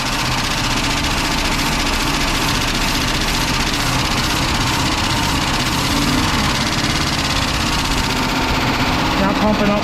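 A 1964 Ford N600 flatbed truck engine runs steadily at idle with a noisy lifter ticking, a constant loud mechanical drone throughout with no voices.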